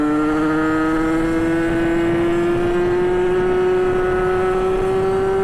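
A derestricted 50cc AM6 motorbike engine fitted with a small aftermarket exhaust revs high and loud, its buzzing tone climbing slowly and steadily while the bike pulls up through the revs, with no voices.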